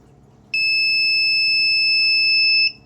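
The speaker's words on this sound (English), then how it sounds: "audible working door alarm" A door alarm built on an expandable electronics board sounds a single loud, piercing electronic tone, held steady for about two seconds before cutting off against a quiet background hum.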